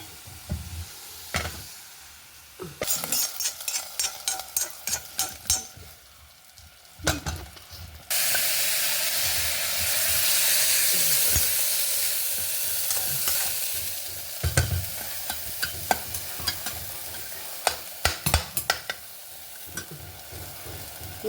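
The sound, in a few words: mustard seed tempering sizzling and stirred in a pan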